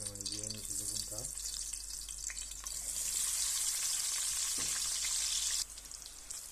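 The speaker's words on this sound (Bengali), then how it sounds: "তেলের মধ্যে দিয়ে নিচ্ছি বেগুনটা।" Eggplant frying in hot oil gives a steady, loud, close sizzle that swells after the first seconds. A voice speaks briefly at the start.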